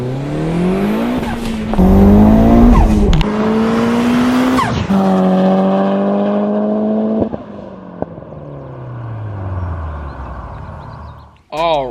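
A 1991 Mitsubishi Eclipse GSX drives off with its engine rising and falling through the gears, loud and close, revving hard with shifts and a brief tire chirp, and a voice talks over it.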